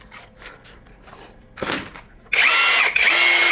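An APR AP84+ cordless impact wrench, preceded by light handling clicks and a brief whir, then running loudly at close range with a steady high-pitched motor whine for the final second.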